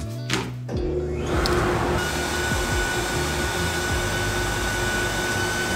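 A workshop dust collector draws air through ten feet of six-inch flex hose, a steady loud rushing roar that starts suddenly after a brief clunk and then holds constant, with no talking.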